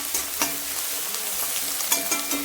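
Onions sautéing in a pan for a potato gravy, a steady broadband sizzle with occasional spoon-stirring scrapes and clicks, close and moderately loud with no talking.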